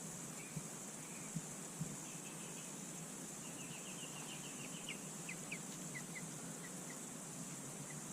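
Faint, rapid peeping chirps come from a chicken that escaped from a Tyson farm: a quick run of high cheeps through the middle and a few scattered peeps near the end, over steady low background hiss.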